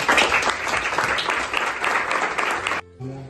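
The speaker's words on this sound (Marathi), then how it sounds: "तर आपण आपल्या पाल्यांसाठी ना एकदा सगळ्यांनी टाळ्या वाजवूया" Audience applauding the students at a school gathering, a dense, steady burst of clapping from a crowd that cuts off abruptly after about three seconds.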